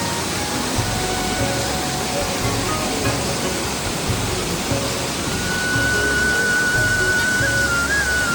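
Steady, loud broadband rush of water from a hill-spring waterfall in Purulia feeding a dam below, constant and enveloping with a faint whistling tone on top.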